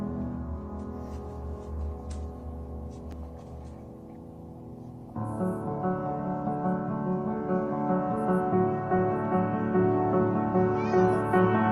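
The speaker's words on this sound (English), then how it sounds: "So that is Faith the cat." Faith, a small formerly paralyzed cat, meows with a steady tonal voice that grows louder and fuller midway, close and sustained with no talk over it.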